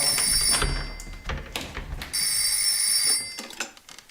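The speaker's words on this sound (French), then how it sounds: "je dois aller répondre au téléphone" An old-style telephone bell rings in two long bursts separated by a short pause, bright and loud, with a few dull knocks and thumps mixed in.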